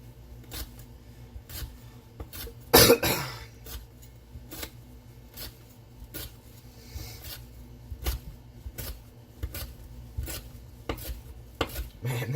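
A CTS-XHP steel knife cutting rope, giving a series of sharp, dry snicks spaced a second or so apart, close and crisp over a quiet room hum, with one louder cut near the start.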